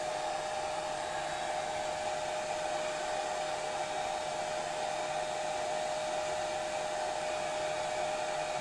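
A hair dryer blows on its cool setting as a steady, even whoosh with a constant whine, running alone without pause at moderate volume.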